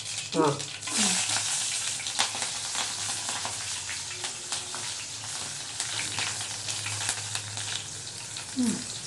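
Onion sizzles steadily in hot oil in a pan with cumin seeds and chili for a potato palya, a dense crackling hiss with occasional stirring scrapes and a brief voice near the start and end.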